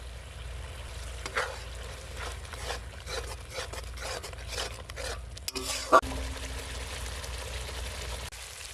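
Spice masala with turmeric, chili and coriander powder frying in oil in a pan, a soft steady sizzle broken by light scraping stirs and one sharp clink near the end.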